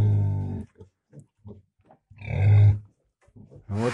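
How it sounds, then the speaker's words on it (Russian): An irritated farm pig grunts close by: a long, deep grunt, then a run of short clipped grunts, another long drawn-out grunt and a final squealing burst. "Вот свинья ругается на меня."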